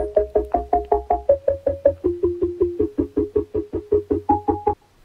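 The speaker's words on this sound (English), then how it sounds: "I found this synth step sample" A stepping synth sample taken from a hip-hop beat: about twenty short, evenly spaced plucked notes pulse in a steady rhythm, shifting pitch in steps before stopping abruptly.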